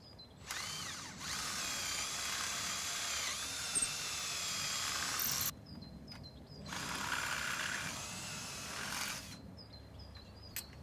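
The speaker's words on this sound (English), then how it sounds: "Drill the post through the hole in the P-clip and bolt in place using a cross-headed roofing bolt." A power drill bores through a post for a cross-headed roofing bolt, whining loudly in two long bursts separated by a pause, with faint clicks in the quieter gaps.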